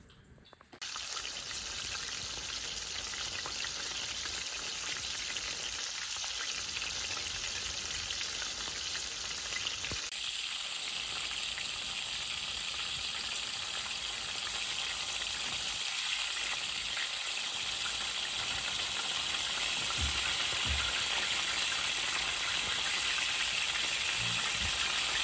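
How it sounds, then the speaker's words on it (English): Burbot fish fillets fry loudly in a pan, a dense, steady sizzle and crackle that continues without pause, with a few faint pops and bubbling spatters near the end. "And then I'll just fry that until it's nice and crispy on the outside."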